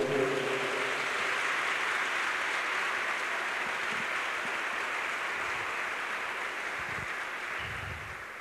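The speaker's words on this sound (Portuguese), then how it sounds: "Dê um aplauso ao Senhor." A church congregation applauds in praise during a worship service, a steady, dense wash of clapping that holds evenly and fades slightly toward the end.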